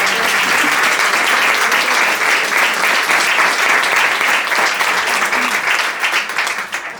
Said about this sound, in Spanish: Damos un aplauso a ver si José...